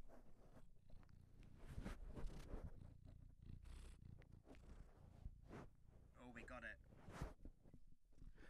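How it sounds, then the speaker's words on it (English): A cat purrs close up in a soft, rumbling rhythm, with rustling and handling noises against the microphone. "Try and hear the purring again."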